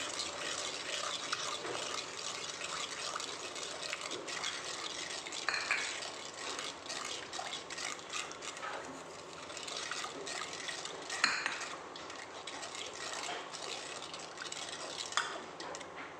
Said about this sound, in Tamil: கைவிடாமல் கிண்டிக்கிட்டே இருக்கணும்.